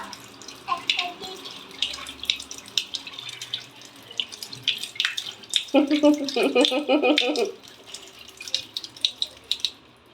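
Water is poured for cleaning, giving a short, close splashing burst midway among small clinks and household sounds, with people talking quietly around it.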